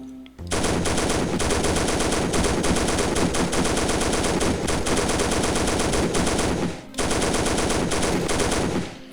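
Sustained, rapid machine-gun fire from a tank training mission in the Faces of War video game, loud and continuous with a brief break before the burst resumes; no talking.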